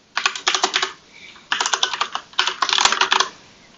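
Typing on a computer keyboard at a command prompt: three quick bursts of close, crisp key clicks separated by short pauses, with no talking.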